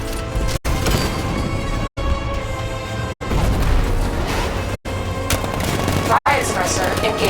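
Dense, continuous combat in the video game Batman: Arkham Knight: rapid gunfire and booming 60mm tank cannon blasts roar loudly, broken by brief sharp cuts in the sound.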